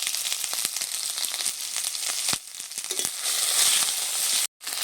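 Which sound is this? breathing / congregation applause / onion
onion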